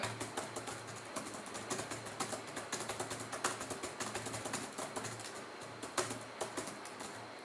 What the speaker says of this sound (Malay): Saya akan cuba menaip kejap bagi anda dengar macam mana.